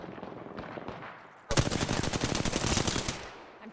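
Rapid automatic gunfire in a video game bursts in loudly halfway through after a quieter noisy stretch, a dense rattling stream of shots lasting a couple of seconds with no talk.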